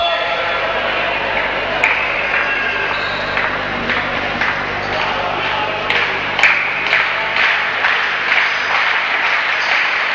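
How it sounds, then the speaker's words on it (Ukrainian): Football fans in a stadium applaud the Uzhhorod team captain after an injury during a match, steady clapping and crowd noise throughout, with a commentator talking over it. "Оплески болівальників віддають належне мужності капітана Ужгородської команди"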